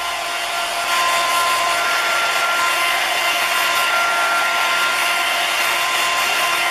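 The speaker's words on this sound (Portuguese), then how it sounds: "eu vou pegar o secador." A hair dryer blows with a steady, loud whooshing hum, getting a bit stronger after the first second and running on without a break.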